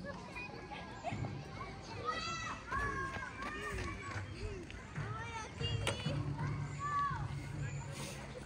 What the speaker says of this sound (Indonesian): Nah, anak-anak main-main.